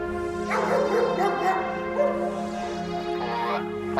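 A police dog barks repeatedly and yips at a car scene after a violent home invasion, sharp loud barks in bursts with brief whimpers, close by and steady against an outdoor background.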